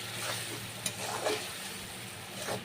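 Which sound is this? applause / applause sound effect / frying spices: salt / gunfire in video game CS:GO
frying spices: salt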